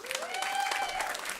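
Audience at a school meals and climate panel applauding to welcome a panelist, a short burst of steady crowd clapping with a thin whistle-like tone sliding through it.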